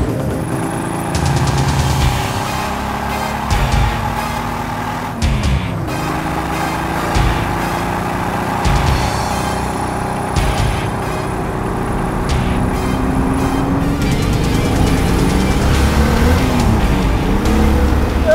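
Hand-built McLaren F1 replica engine cranking, catching and running, loud and close throughout, with revs rising and falling and a brief dip near the five-second mark.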